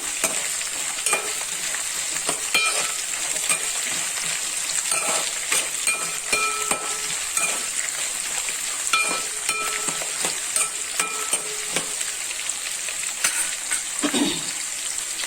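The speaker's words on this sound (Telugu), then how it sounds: "ఇప్పుడు జీడిపప్పు వేసి ఫ్రై చేసుకుందాం" Cashew nuts fry in a pan for coconut rice, a steady close sizzle with frequent sharp clicks and scrapes of a spoon stirring against the metal, no voices.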